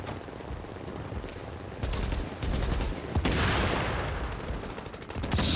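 Gunfire rattles through a firefight in the video game The Division, bursts of automatic shots and rapid fusillades building louder partway through, the exchange sounding somewhat distant with no one talking.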